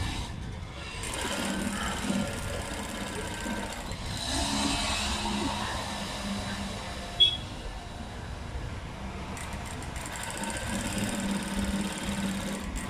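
A sewing machine stitches cloth during a tailoring class, running in a steady mechanical whir for nearly the whole stretch, with one brief sharp knock midway and no talking.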